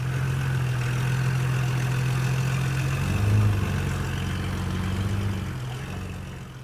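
A Toyota Land Cruiser HZJ75 engine running after clutch, brake and power steering repairs, a steady low idle with a brief swell of revs midway before settling back, heard close with no talk.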